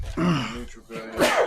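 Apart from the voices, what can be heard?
sneeze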